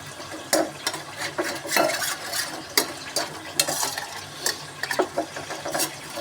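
Garlic chutney mixed with water being stirred in a bowl for a spice paste: repeated scraping and clinking strokes in an uneven rhythm, close and fairly loud, with no voices.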